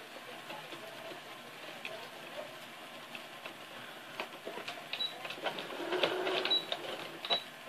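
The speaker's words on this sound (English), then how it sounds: "I'm gonna backstitch." Sewing machine backstitching a curtain, a soft mechanical whirring and ticking that rises toward the end, close but fairly quiet with no talking.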